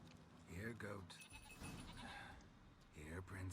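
A goat bleating in The Witcher 3, with several wavering nasal bleats rising near the start and again at the end, close and clear, and a stretch of game noise between them.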